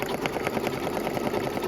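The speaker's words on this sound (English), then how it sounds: "Very first step is going to stitch the placement line of the first pumpkin." A Brother NQ3550W embroidery machine stitches the placement line of a pumpkin design on tearaway stabilizer, with a steady, fast mechanical whirr and rapid needle ticking running continuously and close up.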